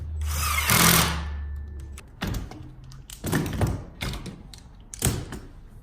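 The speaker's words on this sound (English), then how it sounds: "We can screw all this at once." Screws driven into a wooden cabinet face frame for a kitchen island: a power driver whirs in several short bursts separated by pauses, with thunks and creaks from the clamped wood, close and moderately loud.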